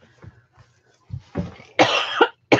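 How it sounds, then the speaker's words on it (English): Several coughs from one person with a cold, starting as small throat sounds and building to two harsh, loud bursts near the end. "I have to cough."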